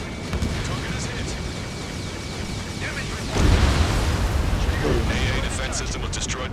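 A missile strike explodes on an anti-aircraft defense system in the video game Ace Combat 7, a loud burst rising at mid-clip over a dense roar of engine and battle noise, with voices on the radio around it.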